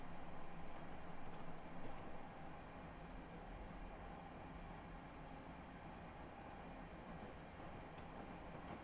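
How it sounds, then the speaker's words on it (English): A train in a train-driving video game rolling steadily on the Washington–Baltimore route, a continuous low rumble and hiss of motion, slightly louder in the opening seconds and then even, without talk. "And now the train is dangerously trying to push me over 45 again."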